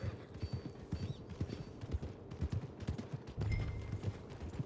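A horse walks toward stables, its hooves clip-clopping in an uneven, moderately close rhythm on hard ground, with a brief rougher burst near the end.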